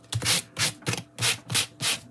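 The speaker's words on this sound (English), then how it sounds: "I am just going to sand it again." Embossed paper is rubbed with a sanding block in a steady back-and-forth rhythm, about seven close, gritty strokes in two seconds with no talking.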